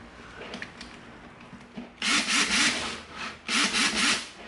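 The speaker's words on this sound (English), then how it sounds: "we're gonna drill a hole straight through here" An electric drill bores a hole straight through a block of EVA foam, giving a harsh buzzing grind in two strong bursts after a quieter start, close up with no talk.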